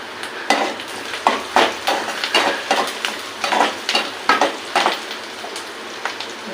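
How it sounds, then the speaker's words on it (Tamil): Onions fry in plenty of oil over high heat for Madras-style prawn thokku, with a constant close sizzle broken by repeated rhythmic scraping strokes of a spoon stirring the pan. "வெங்காயத்தை ஸ்பீடாக வச்சுட்டு எண்ணெய் தளர ஊற்றி நல்லா ஸ்பீடில் வச்சுருக்கேன்"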